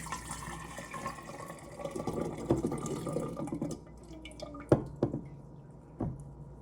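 Kombucha starter liquid being poured from a continuous brewer into a jar, a soft trickling splash with gurgles that trails off into a few separate drips and small knocks, close and fairly quiet.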